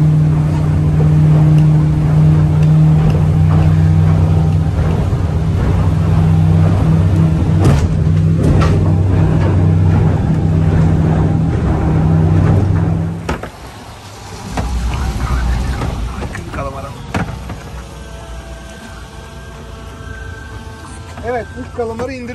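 A motorboat powered by a Suzuki outboard engine runs with a loud, steady drone for the first half. It then drops away to quieter engine and water noise, with a voice talking over it.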